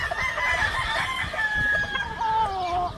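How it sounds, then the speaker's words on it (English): A McRae rooster clucking and crowing on a farm in Hawaii, several rising and falling calls close by and fairly loud over steady farmyard background. "And with this McRae rooster."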